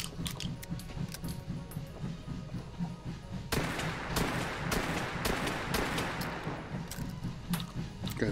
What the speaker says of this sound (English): Okay, there's five shots. I gotta remember that. Five shots to kill.